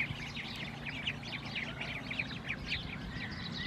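Ducklings at a duck breeding farm give a quick run of high, thin peeps, repeated chirps close by over a low, steady background hum.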